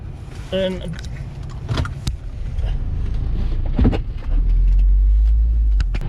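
A bus pulls up behind a parked 2003 Volvo XC90 at a bus stop. Car-interior rustling and key jangles come first, then a deep, loud engine rumble swells close behind and holds for the last couple of seconds.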